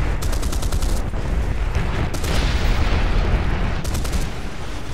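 Bombs explode in a video game in a dense barrage, with repeated heavy booms and crackling bursts rolling over a loud, continuous rumble, with no talk.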